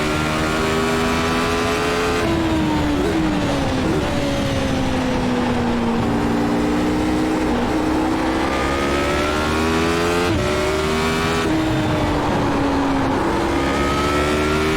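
A Radical SR8 race car in the iRacing sim lapping Spa-Francorchamps while carrying damage, its loud engine revving and shifting continuously through gears with whining pitch sweeps, no voices.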